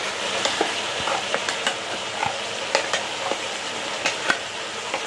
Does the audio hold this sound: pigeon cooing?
no